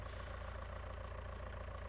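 A tractor engine in Farming Simulator 19 labours up a hill while pulling a big drill, giving a steady, heavy low drone with a constant rumbling tone, moderately quiet and unbroken.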